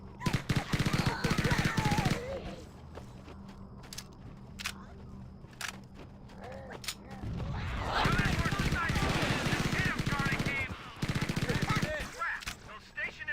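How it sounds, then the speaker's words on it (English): Stationary gun turrets fire in the video game Halo, with rapid loud automatic bursts, sharp single shots and battle noise running throughout, while voices shout and talk over the combat. "Those stationary guns are gonna tear us to pieces."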